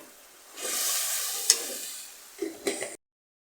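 Water poured into frying spices for a potato and catfish curry sets off a sudden loud sizzle that slowly fades. A few stirring clinks follow, and then it goes silent.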